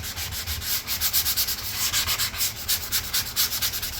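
Steady hand sanding of a repaired interior wall, a rhythmic scratchy rubbing that rises and falls with each stroke, close up and continuous, with no voices.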